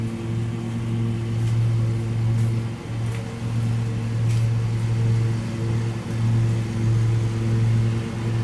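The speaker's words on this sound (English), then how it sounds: "my neighbor goes roaring by in their lawn tractor" A neighbour's lawn tractor engine rumbles past in a rural setting, giving a steady, moderately loud drone that swells and dips slightly as it goes by. No one speaks.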